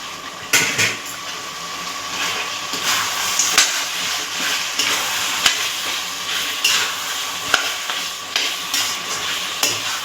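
Country chicken sautés with ginger garlic paste in a pan, a steady moderate sizzle with intermittent spoon scrapes and clinks against the vessel, no talking.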